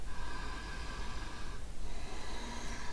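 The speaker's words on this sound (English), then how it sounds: "Breathe in, breathe out." Slow, steady breathing in and out during a calm relaxation exercise, airy and close, with a soft noisy inhale followed by an exhale and no talking.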